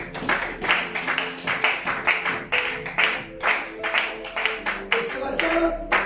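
A church congregation claps in a steady rhythm, a regular beat of loud, close claps that runs throughout. Music or voices sound faintly underneath.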